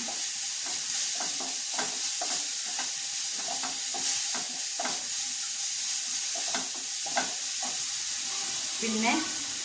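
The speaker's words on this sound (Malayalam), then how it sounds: "ഇനി ഇഞ്ചി വെളുത്തുള്ളി പേസ്റ്റ് ഇട്ട് കൊടുക്കാം അത് നല്ലോണം ഒന്ന് ഇളക്കിയെടുക്കുക" Ginger garlic paste being stirred in a hot frying pan, a loud constant sizzle with a steady run of scraping stirs and a brief clatter near the end, without talking.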